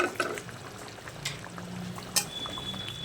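Fried chitol fish pieces drop into a simmering, mostly reduced curry in a home kitchen, giving a steady low bubbling with a few soft splashes and one sharper clink midway, close and alone without talk.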